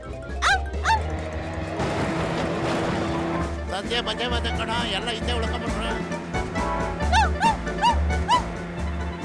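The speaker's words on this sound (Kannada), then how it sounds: "ಈ ನಾಯಿ ಇವತ್ತು ನಮ್ಮನ್ನ ಬಿಡೋದಿಲ್ಲ ಅನ್ಸುತ್ತೆ ಕಣೋ" In a Motu Patlu cartoon chase, a dog barks and yips repeatedly at close range while cartoon characters shout in a panic over busy background music.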